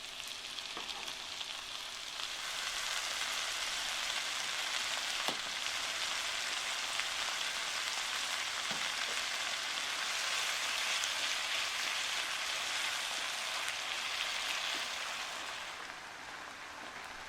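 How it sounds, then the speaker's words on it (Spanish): Onion sautés in a splash of oil in a frying pan, making a soft, even sizzle that holds steady and quiet throughout, with a few faint ticks. "Un chorrito de aceite en la sartén y sofreímos."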